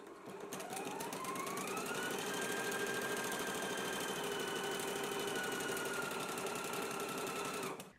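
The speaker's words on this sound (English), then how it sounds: "we can go ahead and stitch on a 5/8 of an inch seam allowance" A sewing machine stitching a sleeve seam runs in one steady continuous burst of fast mechanical whirring and clatter, close and even, stopping abruptly at the end.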